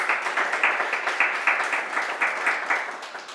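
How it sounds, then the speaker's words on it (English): Audience applause, dense steady clapping from a crowd throughout, fairly loud and even. "Big round of applause for Deepali."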